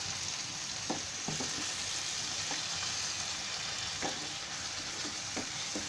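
Tomato paste fries in butter with mushrooms and peas in a pan over high heat, a steady close sizzle with occasional soft stirring scrapes, and no voices.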